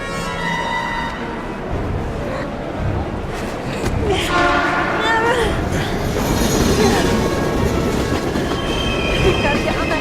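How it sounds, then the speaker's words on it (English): Train approaching in the video game Heavy Rain, a loud, continuous rumble of rolling rail cars with horn tones and wheel squeal building over ten seconds, close and dense. "We've gotta get on that train, Ethan! It's our only chance!"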